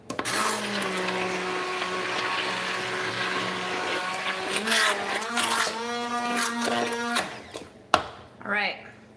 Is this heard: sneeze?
no